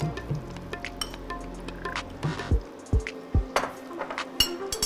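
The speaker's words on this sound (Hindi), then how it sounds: "और घी के गर्म होते ही इसमें हम ये पर्ल मिलेट यानी कि बाजरे का आटा मिला देंगे।" Pearl millet (bajra) flour stirred into hot ghee in a pan: soft sizzling runs under several sharp metallic clinks and scrapes of a spoon against the vessel, close and fairly loud, with no talking.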